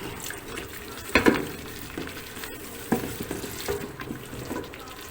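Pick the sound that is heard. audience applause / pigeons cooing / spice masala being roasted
spice masala being roasted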